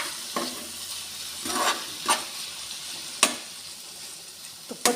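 Whole spices frying in ghee over a low flame, stirred with a spoon, give a steady soft sizzle broken by a few sharp scrapes and clinks against the pan, close up with no talk.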